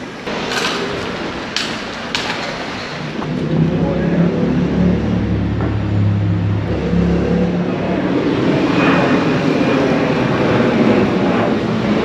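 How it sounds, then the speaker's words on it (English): A jet airplane departing near Heraklion, Crete produces a steady, loud roar that swells after a few seconds and holds for the rest of the stretch, blended with broad wind-like noise. "You're never far away from a departing jet."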